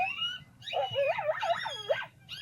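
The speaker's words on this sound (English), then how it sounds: "There's the puppies. They're so cute." Puppies whimper and yip in a quick run of rising, wavering whines that are fairly close and clear, with short gaps between calls and a low hum underneath.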